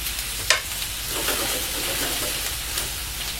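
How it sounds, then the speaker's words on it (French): Food pan-frying until golden, a steady broad sizzle running throughout with a sharp clink near the start and faint stirring scrapes, close and moderately loud. "On va les poêler, on va les faire dorer."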